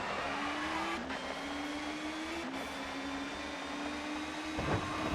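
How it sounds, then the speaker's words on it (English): Touring cars launching at a race start at Silverstone International in the ToCA Touring Car Championship video game: a dense, steady drone of engines with a rising gear-shift whine and brief squeals, moderately quiet throughout. "And away we go."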